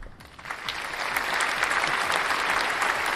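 Crowd applause sound effect swelling from a few claps into steady, dense clapping that holds loud and continuous to the end.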